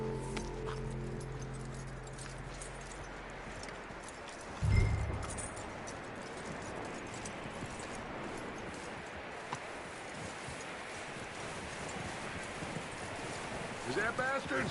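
Horse from the video game Red Dead Redemption II, hooves clip-clopping steadily with a brief thud and jangle of tack, under continuous game ambience and low talk.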